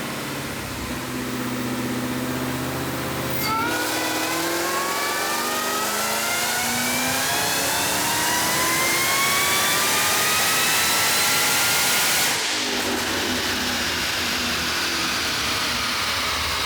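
Jeep Trackhawk fitted with a Demon engine revving on a dyno, a loud sustained roar climbing steadily in pitch for several seconds, with a supercharger-like whine, before cutting back abruptly.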